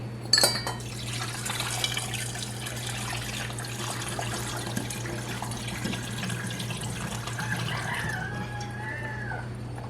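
Kombucha pours from one vessel into a glass container during a second ferment, a steady liquid trickle and glassy splashing that begins with a clink and runs throughout, close and clear, with a steady hum underneath.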